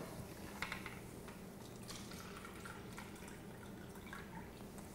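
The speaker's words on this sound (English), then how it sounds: "I'm going to pour some Kangen water on it." Kangen water poured onto a tea bag, a soft, faint trickling and dripping of liquid that runs steadily for several seconds with no one talking.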